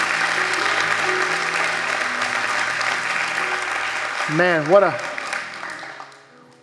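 A church congregation claps in praise, sustained applause that fades out toward the end, with a voice briefly calling out over it.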